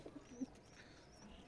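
Wild forest pigeons coo softly near their chicks in a loft, a faint, low murmuring call rising briefly once amid quiet background hiss.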